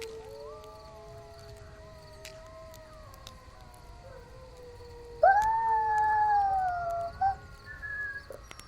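Wild canines howling in Ozark woods at night: long wavering howls layered together at a distance, swelling louder with a chorus of higher yips and howls midway before fading.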